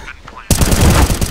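AK rifle fire in the video game CS:GO: a sudden loud burst of rapid automatic shots starts partway through and continues to the end, following a brief stretch of quieter background sound.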